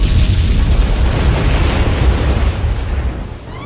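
A torpedo strikes in an action movie and sets off a huge roaring explosion, loud and close, as a dense wall of rumble and debris noise that fills the whole clip and fades slightly at the end.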